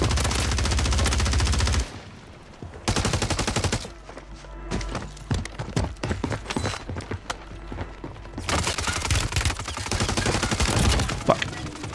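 Bursts of automatic gunfire in the first-person shooter Warzone 3: a dense, loud volley at the start, then scattered sharp shots and clatter, and a renewed sustained barrage near the end.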